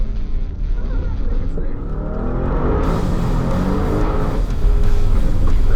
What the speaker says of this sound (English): For a truck, it's pretty fast.